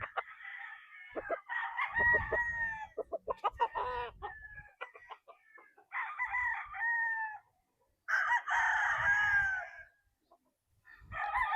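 Gamefowl roosters at a gamefarm crow loudly and close by, several long drawn-out calls in succession, with clucking and scratchy noises filling the gaps between them.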